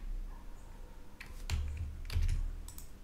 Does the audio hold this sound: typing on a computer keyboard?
yes